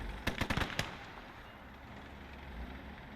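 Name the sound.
gunfire from gun systems in a video game battle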